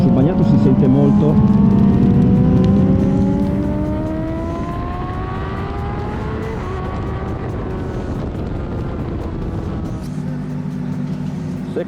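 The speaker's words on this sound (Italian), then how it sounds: "Honda CBR 600 RR sul bagnato." A 2024 Honda CBR600RR motorcycle engine revs and pulls through the gears on a wet track, a steady loud whine climbing in pitch under a voice talking throughout.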